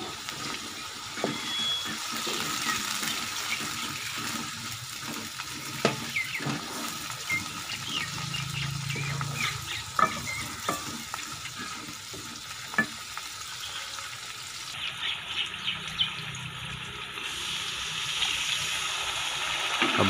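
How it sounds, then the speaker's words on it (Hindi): Water poured into a pan of chicken liver curry with tomatoes, steady sizzling and frying hiss running throughout with scattered stirring clinks, fairly close, no talking. "अब इसमें थोड़ा पानी डाल देंगे।"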